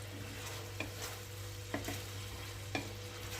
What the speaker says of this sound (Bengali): আমার চিংড়ি মাছ ভালোভাবেই ভাজা হয়ে গেছে।